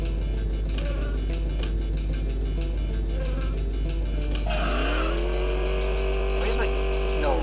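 A car engine in the Enviro-Bear 2000 game hums steadily at close range, then revs and surges with rising pitch sweeps as it accelerates. A voice talks over the driving.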